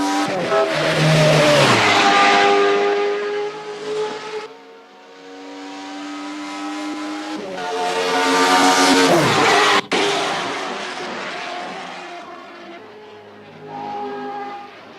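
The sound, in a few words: race car engine in a racing video game, like an Indy car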